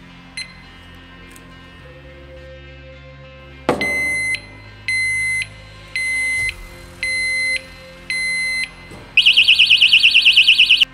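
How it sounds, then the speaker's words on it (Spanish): An Oxford motorcycle disc lock alarm blares at 110 decibels, starting with a single chirp, then five loud evenly spaced electronic beeps, ending in a rapid warbling siren burst. "Decir que la alarma suena a 110 decibelios."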